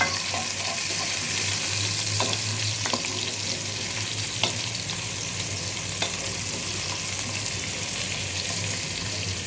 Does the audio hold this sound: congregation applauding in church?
no